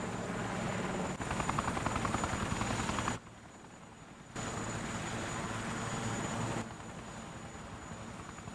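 A helicopter flies in the video game Yakuza 4, its loud rotor thrum and engine whine sustained, with the sound cutting away and returning in abrupt steps and briefly dropping to a quieter level.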